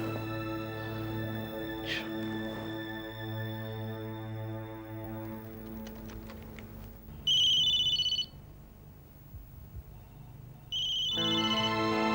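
A phone rings unanswered, sounding as two bright, loud ring bursts separated by a pause, heard over a bed of sustained dramatic background music with no speech.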